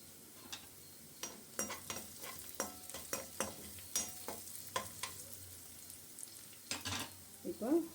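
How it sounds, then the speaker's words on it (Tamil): Onion, ginger garlic paste and curry leaves sauté in a pan, a steady sizzle broken by repeated scraping strokes of a stirring spoon against the metal, close and fairly loud. "இப்போ வெங்காயம் இஞ்சி பூண்டு பேஸ்ட்டு போட்டு வதக்கியாச்சு அது கருவேப்பிலை போட்டுக்கலாம்"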